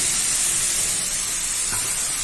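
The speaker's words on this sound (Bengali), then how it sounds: "তো এবারে আমি ভেজে নিচ্ছি দেখো চাপা দিয়ে আমি ভেজে নেব এটাকে" Mixed vegetables, lightly spiced with chilli and turmeric, fry under a lid in a kadai, giving off a steady, close, even hiss of steam and sizzle without any talking.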